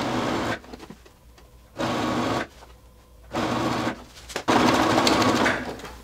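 A sewing machine stitches lace trim onto the side seam under a jacket armhole, in four short close bursts of rapid whirring separated by quiet pauses.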